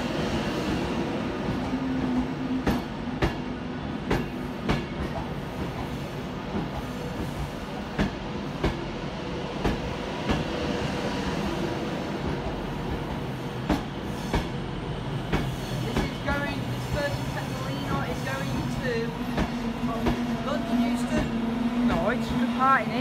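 A Virgin Pendolino train pulls in to terminate at Manchester Piccadilly station, with a continuous rolling rumble and wheel clicks, light squeals near the end, and people talking nearby.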